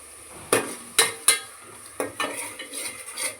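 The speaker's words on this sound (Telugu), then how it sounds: "బాగా ఫ్రై అవనివ్వండి" Goat head curry with tomato and green chillies fries in a pan while a spoon stirs it, giving several sharp metal clanks and scrapes close up over a faint sizzle.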